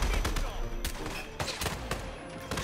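Hitman 2 gunfire rattles out in rapid, irregular bursts over continuous busy game noise, loud and close.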